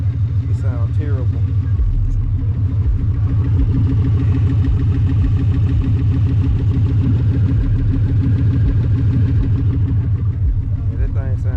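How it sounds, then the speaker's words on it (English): Ford Crown Victoria exhaust rumbling loud and close while the engine runs rough, with a steady throbbing low drone and uneven pulsing that carries through the whole stretch. "I know y'all can hear the exhaust. It sounds terrible."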